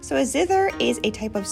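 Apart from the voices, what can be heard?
None of the usual background noises is heard.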